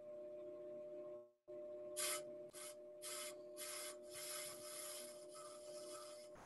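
A drum brake lathe's cutting bit makes initial contact with a brake drum, giving a series of bursts of harsh scraping, roughly once a second, over a steady machine hum, close and fairly loud.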